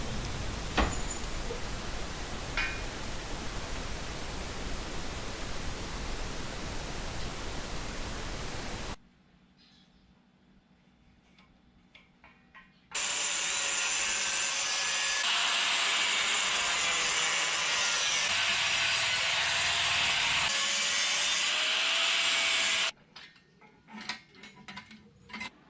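Steel pieces are cut for a DIY welded chair with seat, a loud continuous abrasive roar in two long stretches separated by a quiet gap with small metallic clinks, then scattered clatter at the end.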